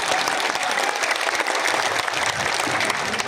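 A large crowd at a political rally in Shantipur, Nadia, claps loudly and continuously, a dense steady roar of applause with no break.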